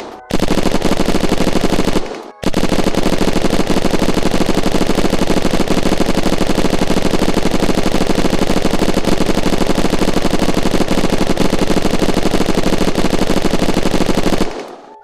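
Sustained automatic machine gun fire from the video game Unturned, a loud, dense stream of rapid shots running almost unbroken for about fourteen seconds, with one short pause near the start.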